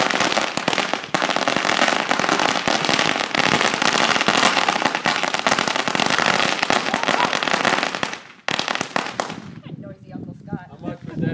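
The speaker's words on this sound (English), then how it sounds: "So there's gonna be another firecracker. He's gonna do a bunch of them." A long string of firecrackers goes off as a dense, loud crackling barrage for about eight seconds, then stops, leaving a few scattered pops with people talking afterward.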